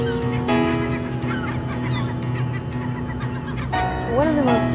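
Geese and other fowl honking and calling repeatedly at a busy industrial port on Shooter's Island in the Kill Van Kull, New York Harbor, over a steady low hum of harbor noise, with a loud burst of honks near the end.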